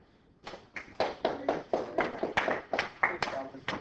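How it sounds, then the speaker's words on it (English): Slow clapping from a classroom of students, a dozen or so distinct claps building in a loose, uneven rhythm, close and fairly loud, with faint murmuring underneath. "Got the slow clap."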